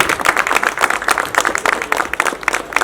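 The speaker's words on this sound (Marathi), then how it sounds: "या सगळ्या आपल्या मैत्रिणींसाठी जोरदार टाळ्या व्हायला पाहिजे" Audience applause at the Krantijyoti Vidyalaya movie launch event, following a dance by the schoolgirls, an uneven patter of many hands clapping at close range with no voices on top.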